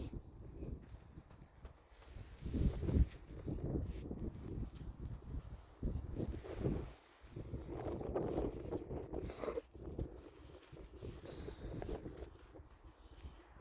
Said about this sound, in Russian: Ой, ветер какой.